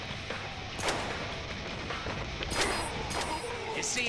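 Several scattered gunshots from the Deadpool video game, a few sharp bangs spread over a few seconds against a steady game background, fairly loud and close.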